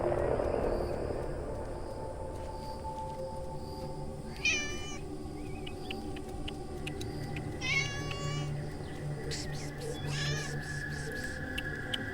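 A tabby cat gives several short, plaintive meows spaced a few seconds apart, fairly faint over a low steady hum, in a horror film.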